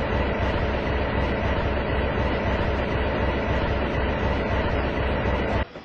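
Henry, a steam train engine, departs with a dense, continuous rumble and rattle of rolling wheels that holds loud and steady throughout, then cuts off abruptly at the very end.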